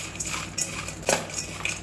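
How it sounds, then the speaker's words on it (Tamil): A spoon stirs and scrapes through ingredients for an Onam poriyal vegetable dish in a metal pan, giving a few quick clinking, scraping strokes close by, with no talking. "நல்லா மிக்ஸ் பண்ணி விடுங்க."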